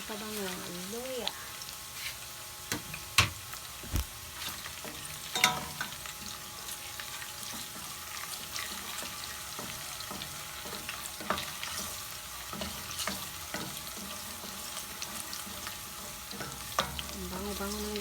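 Ginger tossed into a pan of frying pork liver and pork, with a steady close sizzle broken by sharp clinks and scrapes of stirring, and a voice talking over it.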